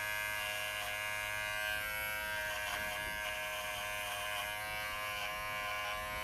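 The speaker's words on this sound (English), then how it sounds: "And there's absolutely no vibration to this clipper at all, which I really love." A Wahl Figura lithium-ion clipper hums steadily and smoothly at close range, running continuously as it trims a standard poodle's face on a 30 blade.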